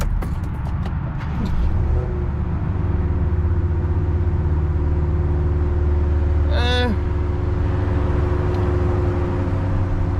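BMW M550i with its resonator deleted, the engine idling steadily with a deep low drone and a brief rising rev partway through, a faint voice at the start.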